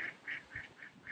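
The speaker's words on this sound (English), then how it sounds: "That's a hen." Wild hen (likely a duck or goose) calling at a lakeside camp, five evenly spaced nasal honking calls in a steady rhythm, moderately close and clear with no talk.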